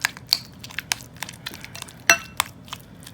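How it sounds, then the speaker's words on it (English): Avocado being chopped and mashed for guacamole in a bowl, giving a scattered run of soft crunchy taps and clinks of utensil against dish, with one sharper knock near the end. "we're just going to start chopping and mashing our avocado until we get this all mixed together"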